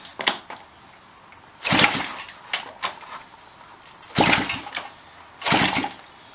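A Honda CB125S motorcycle engine being kicked over, giving several short bursts of mechanical turning and sputtering that never settle into a steady idle, with quiet pauses between the attempts.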